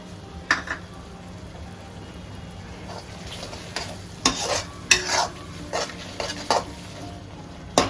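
A spatula scrapes and clinks against a pan while spices, sugar and garam masala fry in oil for a Bengali prawn malai curry. Irregular metallic knocks sit over a soft, continuous sizzle.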